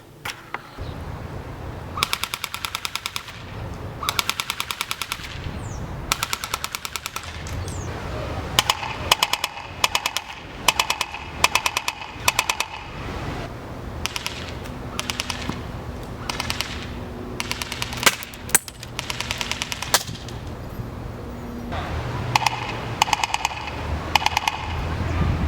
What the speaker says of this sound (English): let's see our before and after sound difference on my Aries LMG.